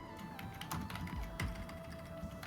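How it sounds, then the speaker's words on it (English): Computer keyboard typing during a tabletop role-playing game session, a run of soft, quick key taps at moderate distance under a steady room hum, with no talking. "that extended typing period by Andrew over there is making me scared about what's to come out of this."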